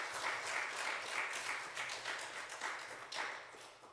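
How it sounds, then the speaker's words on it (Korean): A church congregation at a Wednesday worship service claps to welcome a pastor to the front, a steady, moderately distant wash of applause with no talking over it. "김준수 목사님 나오실 때 여러분 환영하는 마음으로 박수로 우리 환영하면 좋겠습니다"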